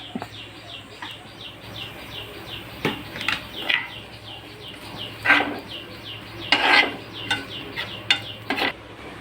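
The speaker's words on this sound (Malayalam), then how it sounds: "ഇതിനകത്തേക്ക് ഞാൻ ഈ ചതച്ച് വെച്ചിരിക്കുന്ന കടുക് കൂടെ ചേർക്കുവാണേ." Crushed mustard seeds go into a pan of softened onions and are stirred: soft sizzling under repeated scraping and clattering strokes of a spoon, some sharper bursts, fairly close and moderately quiet.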